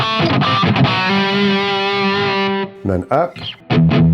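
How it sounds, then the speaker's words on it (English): An Aklot Veltrix electric guitar with its pickup coil split, played through distortion: a held, sustained distorted chord rings out, then a few short choppy strums, with someone speaking briefly in between. "how that coil split's going to sound with some distortion on there"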